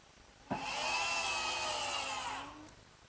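A power drill bores a pilot hole into hard oak for a cabinet door hinge, a single sustained whine of about two seconds that starts abruptly and then winds down, close and loud with no talk.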